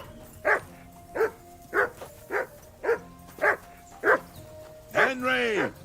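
A dog in the medieval game Kingdom Come: Deliverance II barks in a steady series of about eight sharp woofs, close and loud, ending in a drawn-out whining yelp.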